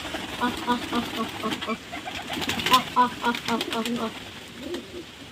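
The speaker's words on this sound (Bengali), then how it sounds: "আর পায়রা খেতে দিচ্ছে দেখুন" Pigeons cooing steadily while being fed grain by hand from a bowl, soft overlapping throaty calls close by, with occasional flutters and scratchy movement throughout.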